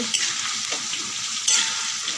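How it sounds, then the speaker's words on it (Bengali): Eggs and potatoes fry in a pan, a loud close steady sizzle with a couple of sharper crackling spurts. "ডিমের আলু ভাজা হচ্ছে"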